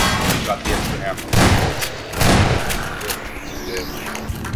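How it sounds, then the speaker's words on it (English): Shotgun blasts in the Half-Life 2 Episode One game: a few loud, heavy booms at irregular intervals amid other gunfire and action noise, with a voice talking over them. "Maybe let's use my shotgun."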